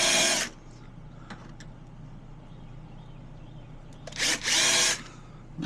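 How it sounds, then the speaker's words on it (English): A power drill bores into a vehicle frame in short bursts: one at the start, then two more near the end after a stretch of quiet hum with faint clicks. "Too wild about drilling into my frame"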